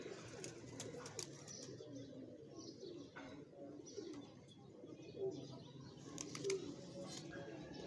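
A captured pigeon coos low and steadily at close range, joined by scattered faint chirps and a couple of brief louder notes, with quiet background noise throughout.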